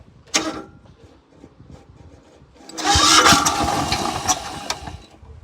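A digger's engine cranks and catches after a short starting attempt, then runs roughly with a loud, rattly mechanical roar and knocking, recorded nearby with no talking.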